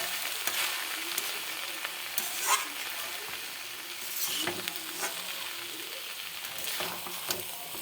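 Banana flower ghonto with bori frying in ghee in a pan, a steady sizzle broken by irregular scraping and clattering as a spatula stirs the mixture close up.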